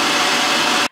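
Hair dryer blowing steadily on freshly dyed hair at home, a loud continuous broadband whoosh lasting almost a second before cutting off abruptly.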